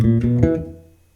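Electric bass guitar plays a short line, a couple of quick plucked notes that ring out and fade, close and clean.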